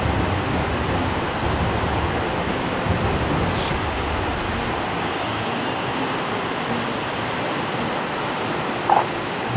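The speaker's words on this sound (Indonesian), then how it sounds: "Selamat datang di air terjun tingkat 3. Welcome to the waterfall." A waterfall at level three of Lubuk Hitam rushes in a steady, loud broadband roar that fills the whole span without a break, with a brief higher splash or chirp part way through.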